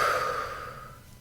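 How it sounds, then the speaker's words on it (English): A single deep breath during a guided meditation, a soft, close airy exhale fading away over about a second, with no talk. "Breathing in, calm and peace. And breathing out all that needs to go."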